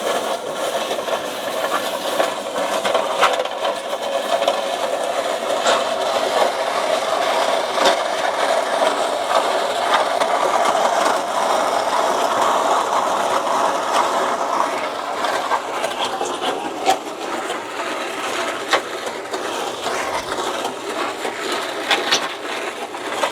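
An engine-driven mixer machine runs steadily and loudly at a deck and metal railing install site, a continuous mechanical drone with faint clicks and rattles.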